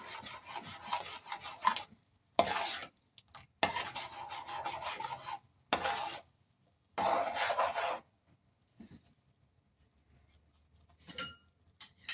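Spaghetti sauce with homemade meatballs being stirred in a pot after sugar is added, a run of rough scraping and rubbing strokes in bursts separated by short pauses, close and without voices.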